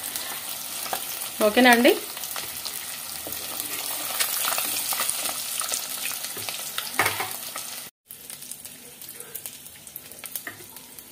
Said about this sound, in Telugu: గుడ్లు చక్కగా వేగిపోయినాయండి.